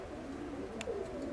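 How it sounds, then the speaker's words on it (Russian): A pigeon gives a short, soft coo close by, a single low murmuring call over a quiet background hum. "Хорошая голубка, нам нравится."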